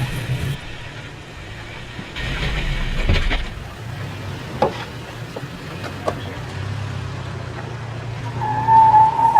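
Toyota Tacoma off-road truck crawling slowly over rocks in 4 low, a low steady engine rumble with occasional scrapes and creaks from the tires on stone, ending in a brief higher whine.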